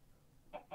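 Two short, soft clucks from a chicken in Minecraft, quiet and close together after a moment of near-silence.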